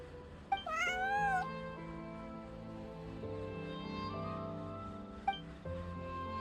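A cat meows in the Genshin Impact video game, one drawn-out, rising mew near the start and a shorter chirp later, set over soft, steady background music.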